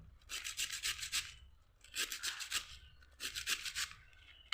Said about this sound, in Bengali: মূলো ঘষে নিলাম এতটা হয়েছে এবার আমি বাকিটাও ঘষে নেব